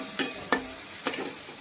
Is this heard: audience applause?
no